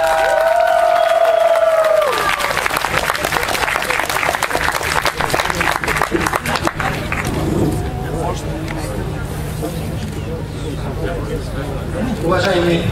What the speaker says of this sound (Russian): Давайте встретим его бурными аплодисментами.